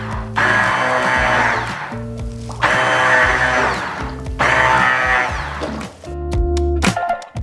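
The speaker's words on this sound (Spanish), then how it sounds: "con la ayuda de la batidora de inmersión trituramos todos nuestros vegetales" An immersion blender purées the vegetables of a Christmas vegetarian cream soup in a pot, running in three loud whirring bursts of a second or two each, with short pauses and clunks between them.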